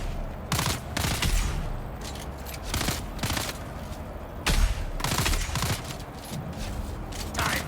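Repeated bursts of gunfire in the survival game Dune Awakening, with loud sharp shots arriving in irregular clusters and volleys over a steady background of game ambience.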